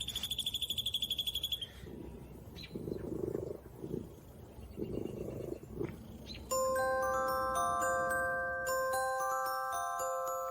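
Beeping and electronic tones from a compilation of employees' morning routines, opening with a rapid pulsing alarm, then muffled shuffling sounds, then a loud sustained multi-tone ringing that plays alone.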